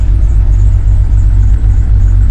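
The engine of a 1996 Jeep Cherokee XJ with a slight misfire runs loud and close, a steady low rumble holding evenly throughout.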